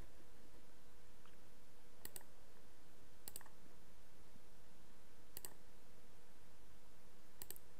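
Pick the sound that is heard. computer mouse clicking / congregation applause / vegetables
computer mouse clicking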